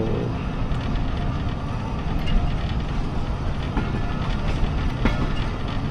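The Thall Express, a slow day train between Jand and Multan Cantt, rumbles on continuously from inside its last coach, a loud steady roar of wheels on rails with faint rhythmic clicks throughout.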